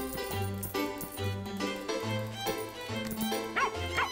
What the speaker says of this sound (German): Na komm, Hund. Wo bist du?